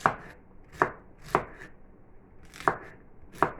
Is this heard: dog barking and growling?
no